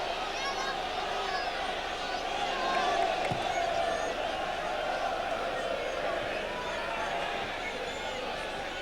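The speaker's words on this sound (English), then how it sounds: "the noise that's at the moment going on with the home crowd" A home football crowd roars at a match, a dense, steady wall of noise with a brief swell, while a commentator talks over it.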